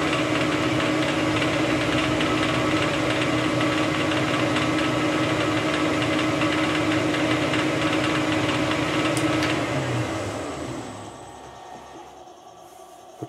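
A worn metal lathe machines a tailstock die holder between centres, giving a loud, steady mechanical drone for about ten seconds before the cut stops and the motor winds down to near silence.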